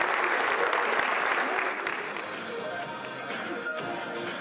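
A roomful of young youth leaders applauds loudly in a ceremony hall, a dense wash of clapping that eases slightly after the first couple of seconds while voices murmur underneath.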